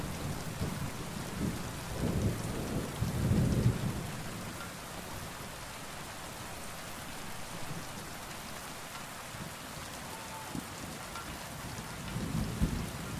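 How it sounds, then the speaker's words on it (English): Steady rain hisses throughout while low rolls of thunder rumble early on and again near the end, distant and booming, in the video game Kingdom Come: Deliverance 2. "This is good lightning and thunder sounds."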